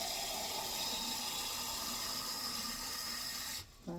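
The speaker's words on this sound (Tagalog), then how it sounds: "Lagyan natin ng tubig." Tap water gushes steadily and loudly into a pot, about two gallons' worth, for cooking chicken wings with sotanghon noodles, cutting off abruptly near the end.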